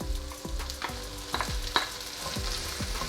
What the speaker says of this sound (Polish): To razem podsmażamy około 2 minut.